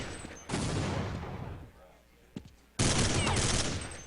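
Burst fire from a FAMAS in Counter-Strike 1.6 at a LAN tournament match, two dense loud stretches of rapid shots separated by a quieter gap with a couple of brief sharp reports, with a commentator's voice beneath.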